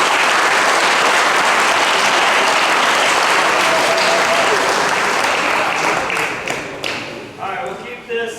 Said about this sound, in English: So let's give those guys a round of applause.